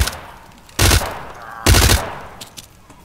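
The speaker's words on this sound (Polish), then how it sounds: "Słyszałem strzały." Gunfire in the shooter game Zero Hour, on a hotel level: two loud, sharp bursts of shots about a second apart, each lasting roughly a quarter second, over a quiet game background.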